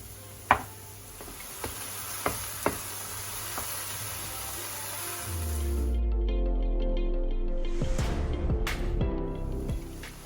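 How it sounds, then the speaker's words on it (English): Mushrooms sizzling in a hot pan while being stirred, with sharp spatula knocks against the pan early on, then a steadier frying hiss and a low rumble close by. "And again I will stir until the mushrooms are withered."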